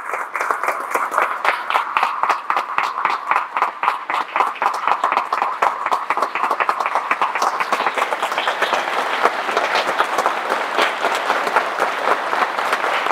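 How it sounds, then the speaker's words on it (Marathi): An audience at a Hanuman procession gathering applauds: steady, dense clapping from many hands, loud and continuous throughout without a break. "एकदा जोरात टाळ्या व्हायला पाहिजे"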